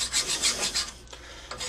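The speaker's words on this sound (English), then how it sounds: "I like to just hand file a nice flat surface," A hand file rasps rust off a brake bracket bolt surface while fitting a Wilwood brake kit to a 1957 Chevy Bel Air, with a series of close, steady rhythmic strokes that pause briefly before resuming.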